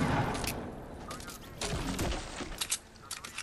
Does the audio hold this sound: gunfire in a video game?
yes